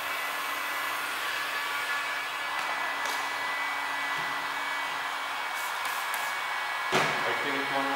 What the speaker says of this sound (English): I take my heat gun.